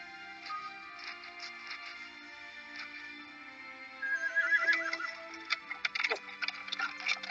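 Horse neighing and clip-clopping hooves in the video game Star Ocean 3: Till the End of Time on PS2, a steady clatter of hoofbeats with whinnies that grow louder and busier partway through, over game music.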